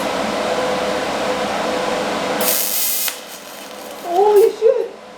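TIG welding by a beginner: a steady broadband hiss of the arc runs for about three seconds, then cuts off, followed by a short excited voice.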